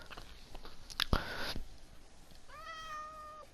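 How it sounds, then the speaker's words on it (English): A cat in the Minecraft video game gives a single clear meow near the end, after a burst of crunchy eating sounds, with no talking. "There's my cat."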